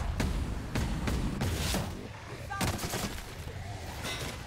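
Gunfire from a weapon in The Outer Worlds video game: several sharp, loud shots in quick bursts across the clip, mixed with explosive game effects and a steady noisy background.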